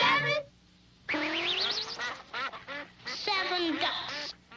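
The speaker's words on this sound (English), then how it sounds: "7 ducks" Ducks quack in rapid, bright bursts, several nasal calls in quick succession with brief pauses between, fairly close and clear.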